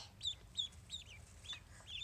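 Young ducklings peep in short, high, thin chirps, five or six calls repeating every few tenths of a second, faint and close with a quiet background.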